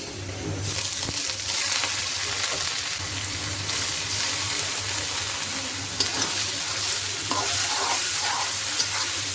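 Polao rice frying in oil with lightly browned onions and spices, a steady close sizzle with intermittent stirring scrapes throughout, no talking.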